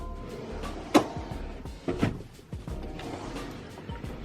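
Small makeup drawers in an apartment slide and knock shut. Two distinct close thumps sound about a second apart, followed by softer rattles and light handling noises.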